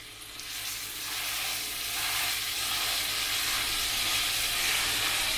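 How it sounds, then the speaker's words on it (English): Pork cutlet, brined and seasoned with salt and pepper, searing in hot oil in a pan, a loud, steady sizzle that swells in the first second and then holds continuous and close. "I'm just going to get a good sear on that."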